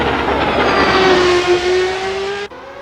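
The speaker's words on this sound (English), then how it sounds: "Obviously that V12 engine powering this thing around." Formula 1 car from 1990 with a naturally aspirated V12 in a sim racing game, screaming at high revs with a rising tone, then a sharp drop as it shifts near the end; loud and close, no talking.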